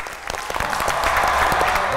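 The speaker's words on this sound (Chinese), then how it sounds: "掌声送给漂移不落的吴" Audience applause and cheering erupt in a TV competition studio for a performer's stage act, a bright dense wash of clapping and excited voices building quickly and holding loud.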